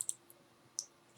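A few sharp, faint computer mouse clicks, isolated taps spaced apart in a very quiet room, close by with no talk.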